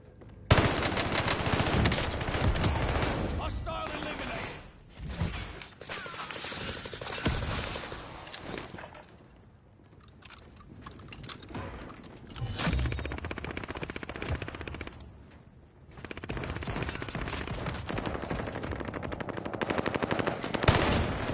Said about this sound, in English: Enemy soldier nearby. I'm under fire.